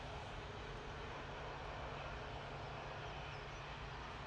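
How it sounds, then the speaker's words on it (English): An Airbus A320neo airliner departs Manchester Airport, its engines producing a continuous, even wash of roaring noise heard from a distance, without any talking. "A320neo departing there with flight 2505"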